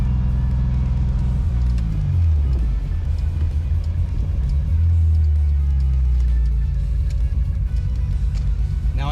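Old BMW 733i sedan driving with a worn exhaust system and missing catalytic converter, its engine a steady low rumble close by that swells in pitch around two and five seconds.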